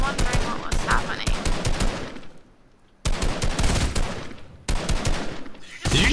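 Loud bursts of automatic gunfire in a video game, several long rapid volleys broken by short pauses, close and dominant, with faint talk in places.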